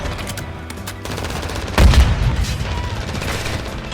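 A Lockwood 300 double-barrel shotgun fires in a video game: one heavy, close blast stands out midway over ongoing battle noise and other distant gunfire.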